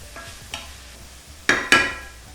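Chopped tomatoes hit sautéed onions in a pot for lobia pulao, giving two loud close bursts of sizzle among lighter stirring knocks over a low background hum.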